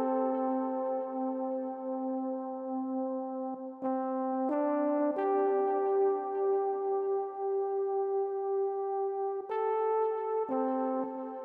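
A soft trombone patch on a Korg Triton synthesizer plays a quiet, sustained mono melody through a delay. Long held notes change pitch only a few times.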